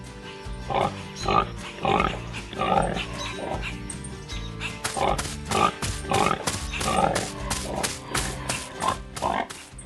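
Pigs grunt and oink in a rapid, uneven stream, several animals snorting close by over a steady background hum.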